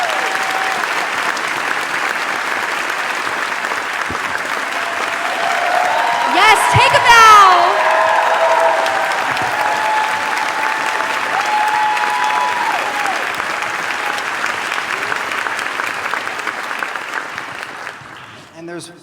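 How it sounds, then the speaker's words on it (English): Loud, sustained audience applause with some cheering fills a large event hall for nearly twenty seconds, continuous and dense before tapering off at the end, while a presenter speaks briefly over it. "Let's give her one more round of applause."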